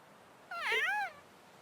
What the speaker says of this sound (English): There's a kitty cat!